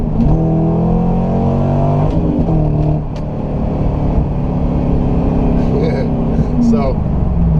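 A C5 Corvette convertible accelerates hard from a roll, its engine revving loud and close with rising tones that drop at a gear shift and then climb again.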